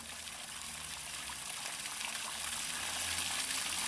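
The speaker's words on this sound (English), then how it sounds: "Barrels of water going down the drain" Water rushes down a roadside drain in a steady, continuous broadband gush, growing slightly louder toward the end, with no voices.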